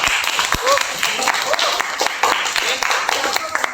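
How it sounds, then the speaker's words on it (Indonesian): A small classroom group gives a short round of clapping after a student's presentation, quick uneven claps running throughout with voices talking over them. "tepuk tangan untuk Mbak Siva"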